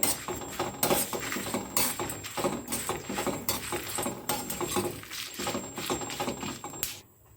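Finely chopped dry coconut roasting in a pan gives a steady patter of light crackles and scraping stirs, close and fairly quiet, running almost the whole time.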